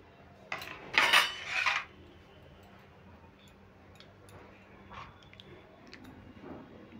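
Chusi payesh, a milk-and-rice-noodle pudding, being ladled into a bowl: a brief burst of loud clattering utensil-on-dish clinks, then quieter scattered taps and light scraping.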